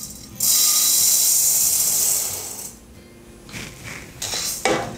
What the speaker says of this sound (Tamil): இப்போ நம்ம வந்து கொள்ளை வறுத்துடலாம்.